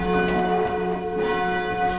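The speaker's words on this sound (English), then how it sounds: "This bell's about 1700 weight, I think." A church bell swinging in St Peter's Church tower in Tiverton, a bell of about 17 hundredweight, rings close and loud with a sustained, rich tone whose overtones hang steadily throughout, with no voices over it.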